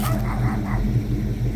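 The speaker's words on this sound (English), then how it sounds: "a little dog." A small dog gives brief, close yips and whimpers over a steady low rumble that continues underneath.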